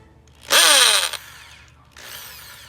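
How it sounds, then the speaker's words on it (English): A power drill whines loudly in one short burst while installing solar step LED lights, then a second, quieter burst follows after a pause. "Yeah, I need to just drill, so let's take it out."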